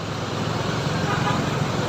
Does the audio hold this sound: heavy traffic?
yes